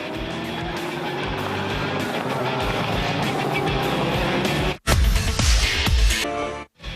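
Le Mans Series race cars lap Silverstone during the 2009 1000 km race, loud roaring engines sweeping past close by with shifting pitch, broken by a brief dropout and another car surging by.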